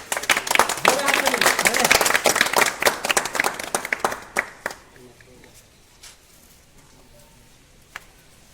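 A crowd at a free medical camp breaks into loud clapping that runs for about four seconds, then thins to scattered claps and fades, with a voice speaking into the quieter tail.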